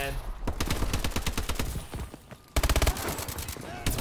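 Gunfire from assault rifles and SMGs in the Call of Duty video game: dense, rapid shots run almost continuously, with a brief pause before a loud, evenly spaced burst near the end.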